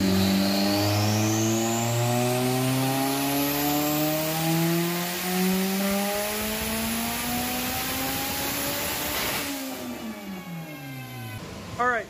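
A turbocharged GSR sedan running 1000cc injectors and a Walbro 450 fuel pump revs hard, its engine note climbing steadily through a long pull before easing off and blipping again near the end, loud and close with no talk.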